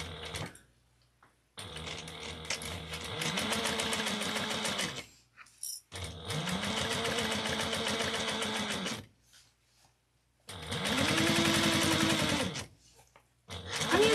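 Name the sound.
sewing machine top stitching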